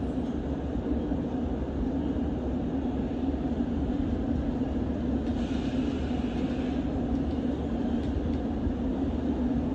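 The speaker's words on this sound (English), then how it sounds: "I think a Metropolitan line train's arriving." A London Underground Metropolitan line train pulls into Aldgate station, a steady loud rumble of wheels and motors filling the platform throughout, with a brighter hiss of brakes or air rising midway as it draws in.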